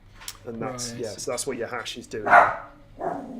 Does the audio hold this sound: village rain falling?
no